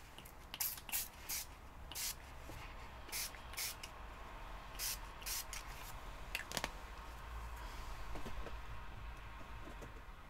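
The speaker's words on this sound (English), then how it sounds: "These are what I'm spraying now. Tattered Angels glimmer mists." Short bursts of Tattered Angels glimmer mist sprayed from small bottles onto mixed media art cards, a string of quick hissing puffs in irregular rhythm, close and fairly clear over a soft room background.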